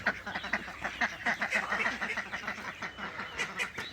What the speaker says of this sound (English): Good morning, Call Ducks.